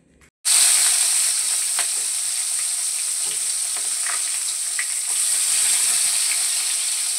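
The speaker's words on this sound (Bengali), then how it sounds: "মাছ ভাজা বসিয়ে দিলাম" Fish frying in a pan in a home kitchen, starting abruptly with a loud, bright, continuous sizzle and occasional crackles and scrapes, heard alone without talk.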